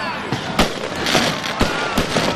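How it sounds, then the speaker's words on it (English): Firecrackers burst at a Fiji rugby sevens stadium before the 2021 Marist 7s cup final, a rapid crackle of loud sharp pops over a steady crowd roar. "There goes the firecrackers even before the final."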